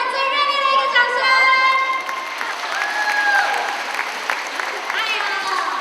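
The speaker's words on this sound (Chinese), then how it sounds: "再给他们最热烈的一个掌声" Warm applause from a congregation at a Christmas thanksgiving church service, steady clapping mixed with children's high voices and a speaker talking over it.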